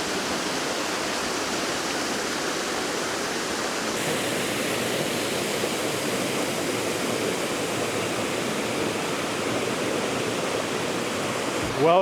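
Beach Brook Falls roars as a steady, full rush of falling water heard close up, continuous and even throughout with no talking.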